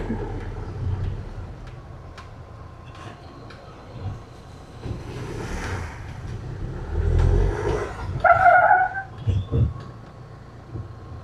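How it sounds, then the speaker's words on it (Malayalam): Tyres of a freshly repainted Mahindra Thar roar on the road while driving, a loud, uneven low rumble that swells and fades, with a brief higher squealing tone partway through. "ടയറിൽ ഒച്ച കേട്ടിട്ട് ഞാൻ തന്നെ പേടിച്ചു പോകുന്നുണ്ട്"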